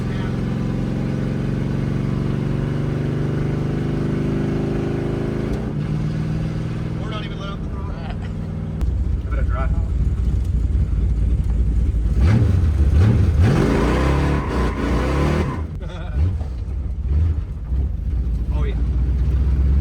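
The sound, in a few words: Dodge Dart V8 four-speed accelerating hard at drag racing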